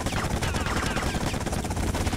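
Automatic gunfire from the video game GTA: Vice City, a loud, dense and continuous stream of rapid shots with no pauses across the whole stretch.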